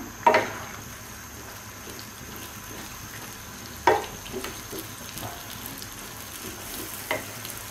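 Mutton and pointed gourd (kakrol) fry in a pan over raised heat, giving a low, continuous sizzle. A few sharp metallic clanks of stirring break in at intervals, close by and with no talk.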